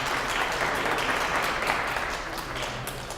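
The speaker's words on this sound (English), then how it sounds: "clap your hands." Crowd at a Talking Book library's 50th anniversary celebration clapping, dense sustained applause from many hands filling the room for about three seconds without letup.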